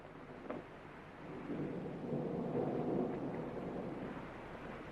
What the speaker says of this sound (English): There is another storm blowing up.